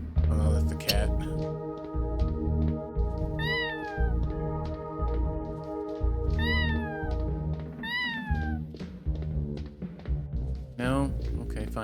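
A cat in the video game Plumbers Don't Wear Ties: Definitive Edition meows several times, clear drawn-out cries spread through the stretch over a steady tonal game background.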